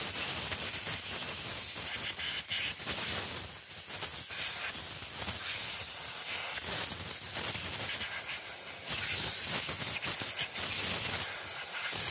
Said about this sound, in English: Get a little compressed air.